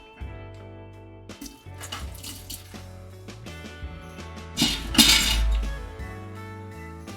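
Water runs and splashes while a bottle is rinsed out in a home brewing setting for mead, with clinks of glass and a louder surge of flowing water near the end.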